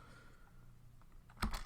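Computer keyboard typing of a Linux command at a command line, a faint scatter of light key taps followed by a louder burst of a few clicks near the end, with no talk.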